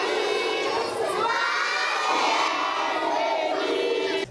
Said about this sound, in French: ce sont les cris et les chants des enfants qui l'accueillent.